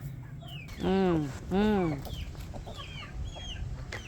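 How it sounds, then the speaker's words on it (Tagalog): Chickens clucking up close, with two long, loud, drawn-out calls, then softer scattered clucks and chirps from the flock. A person hums quietly in between. "My beautiful chicken."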